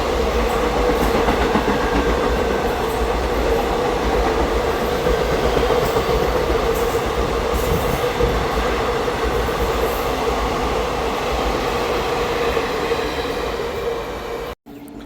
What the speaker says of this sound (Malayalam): So Kollam Hyderabad special train crossing Chalakudy railway station.